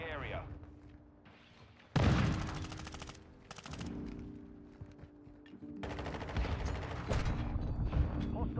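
Gunshots in a first-person shooter, several bursts of rapid automatic fire, loud and close, starting abruptly and separated by brief lulls, over a low steady game background hum.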